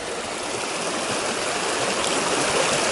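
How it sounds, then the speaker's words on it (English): A mountain stream swollen with rainwater rushes beneath a small bridge, a loud, continuous broadband roar of churning water close by, with no pauses or voices. "you can see just immense amounts of water that are coming down the mountain"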